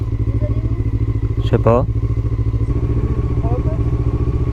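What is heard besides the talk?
KTM Duke 125 motorcycle riding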